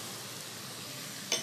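Shrimp, corn, green onion and bell peppers sizzle in a pan while being stirred, a close steady frying hiss with a short scrape near the end.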